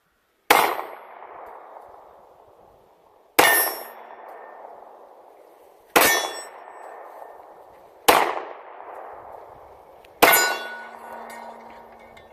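Five rifle shots from a Smith & Wesson Performance Center rifle topped with a Vortex Viper scope, fired at targets on a range, each a sharp loud crack with a ringing tail, spaced about two to three seconds apart.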